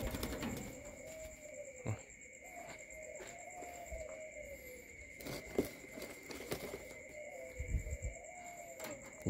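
Pigeons in a breeder's loft coo softly again and again, rolling calls coming every couple of seconds over a steady insect-like hiss and occasional knocks.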